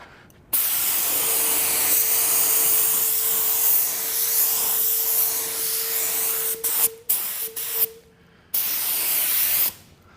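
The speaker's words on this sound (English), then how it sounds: "I'll come back and put another coat on. Second coat of paint." A spray gun lays a second coat of base coat paint in a car refinish blend, producing a loud continuous hiss that runs about six seconds, then breaks into short bursts before stopping.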